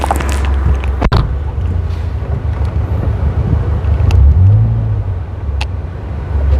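A Toyota Vios manual sedan being driven, with a steady low engine and road rumble inside the cabin, occasional clicks and knocks, and a brief rising engine note midway.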